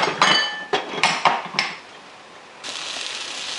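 A few sharp metallic clinks and knocks of a saucepan and utensils while making homemade orange marmalade, close and distinct, followed by a steady hiss.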